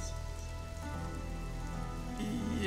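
Steady rain pours down across the open world of the video game Sonic Frontiers, a continuous dense hiss of drops on surfaces that holds at an even level from start to finish with nothing else over it.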